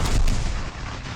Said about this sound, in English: Sherman turns to Union artillery